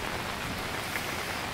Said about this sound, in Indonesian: situasi hujan